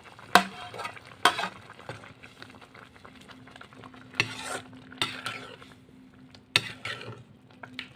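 Small fish cook with spinach dock (chuka saag) in a pan, sizzling and frying steadily. Sharp scrapes and clanks of a stirring utensil against the pan break in every second or two, close by, with no speech.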